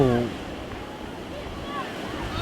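Ocean waves break and wash against a stone pier at a city beach in Perth, Australia, a steady surf roar mixed with wind noise, with a voice briefly at the start.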